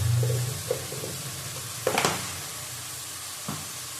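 Chicken kosha with whole garam masala fries in a pan, with a low sizzle broken by a few distinct stirring scrapes and clatters, close by and without talk.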